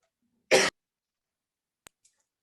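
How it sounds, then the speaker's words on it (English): A person with something stuck in their throat gives one short, sharp cough up close, then a few tiny clicks in otherwise quiet surroundings. "I'm going to keep coughing"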